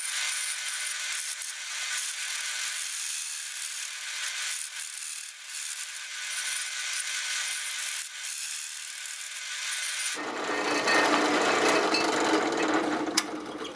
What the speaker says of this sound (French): On fait juste de percer jusqu'à ce qu'on arrive avec la grosseur qu'on veut avoir.